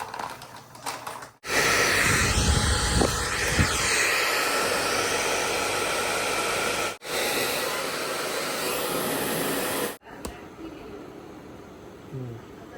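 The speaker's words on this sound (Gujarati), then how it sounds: "આને પેલા ડ્રાયર મારવું જો ને તો અંદર પછી તેજ લાગી જશે" A hair dryer blows with a loud, steady whoosh, switching off briefly twice before the roar resumes, then cutting out near the end.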